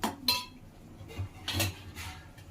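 A spoon scrapes and clinks against a cooking pot while Andhra-style chicken curry is stirred, a few soft metallic taps and scrapes close by over a low simmering background.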